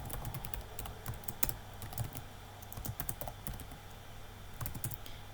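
Quick, irregular keystrokes on a computer keyboard tap out a short phrase, close and fairly quiet with small pauses between bursts of clicks.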